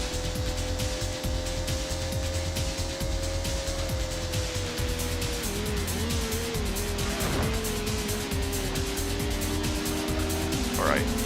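Race cars roar through a Gran Turismo video game race, engine notes rising and shifting steadily beneath continuous talking, with a brief squeal of tires near the end.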